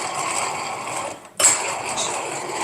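An inclined twin turbo bench vise with a two-speed transmission is cranked at a workbench, making a close, grinding mechanical whir that stops briefly and then resumes.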